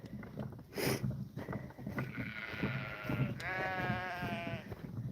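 Sheep and lambs bleat on a farm, several overlapping wavering calls close by, one long quavering bleat standing out over a rumbling background.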